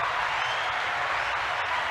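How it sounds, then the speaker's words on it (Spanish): Steady applause from a crowd, a dense wash of clapping that holds at an even level for the whole moment. "Les doy un aplauso"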